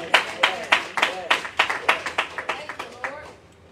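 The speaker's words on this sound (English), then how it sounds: "Clap your hands for the Lord." A church congregation claps in a steady rhythm, about a dozen sharp, close hand claps a third of a second apart, with voices murmuring faintly beneath.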